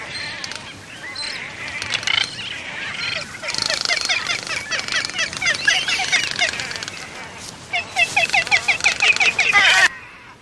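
In a crowded frigate bird colony, many birds give rapid, chattering calls that overlap near and far, swelling into dense bursts with short pauses between them.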